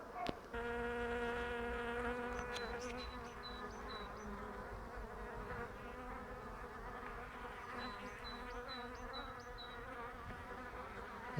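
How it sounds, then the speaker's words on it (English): Honey bees fly in and out of a hive on a warm East Sussex day, a dense, steady buzzing hum from many insects close by, with higher individual whines passing through. "so I thought I'd just show you the bees flying in and out."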